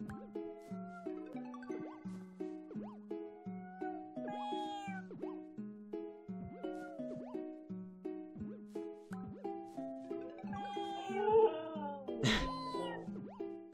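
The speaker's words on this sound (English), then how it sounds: "Sounds like Stella's not a big fan of all these cats" Several cartoon cats in a cat video game meow again and again in a steady, overlapping chorus, with a brief louder squeal near the end and no talking over it.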